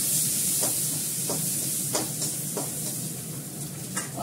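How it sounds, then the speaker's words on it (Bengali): Onion going into hot oil with cumin, giving a steady close sizzle with a few light stirring scrapes and spatters throughout, no talking. "পেঁয়াজ দিলাম"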